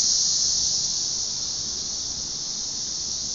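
A dense cicada swarm in Nashville drones as a steady, loud, high-pitched continuous buzz with no break, filling the air evenly throughout.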